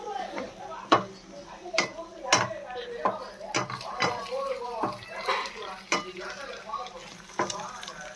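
A spoon stirs chicken rice in a sizzling pan, knocking repeatedly against the metal in an irregular series of clinks and scrapes, close and clear, while someone talks throughout.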